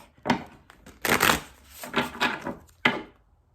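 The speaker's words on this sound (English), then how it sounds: "One more shuffle for Virgo." Oracle card shuffling close by, a few separate bursts of riffling and sliding with short pauses between them, no voices.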